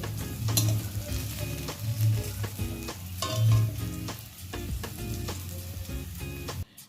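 Khesari dal fritters fry in hot oil, a continuous close sizzle and crackle with occasional spatula scrapes and clinks throughout.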